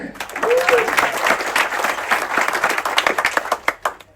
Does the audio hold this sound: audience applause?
yes